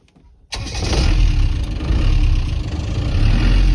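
A Land Rover engine cranks and fires from a starter button, a sudden loud catch after near silence, then settles into a steady, rumbling idle that holds close and strong to the end.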